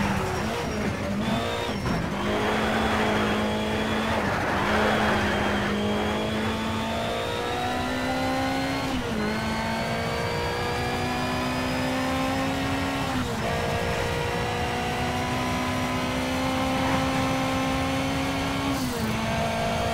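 Race car engine in Need for Speed Shift revving hard through repeated upshifts, each gear climbing steadily then dropping back, loud and continuous for the whole stretch with a faint voice now and then.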